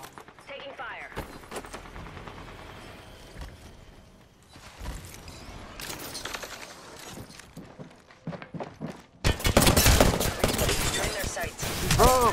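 Gunfire in a video game with the player under fire: scattered shots and clattering impacts early on, building to dense, loud bursts of rapid fire in the last few seconds, with game sounds and movement throughout.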